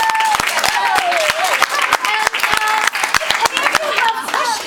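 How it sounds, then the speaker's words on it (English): An audience claps for performers at an improv class showcase, a steady dense patter of hand claps with voices cheering and calling out over it throughout. "Let's give them a big round of applause."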